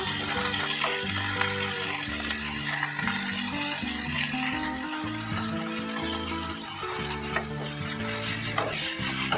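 Beans and carrots stirred and frying in a pan for bread upma, with a continuous close sizzle under frequent scraping spoon strokes that swells slightly toward the end, and no talk.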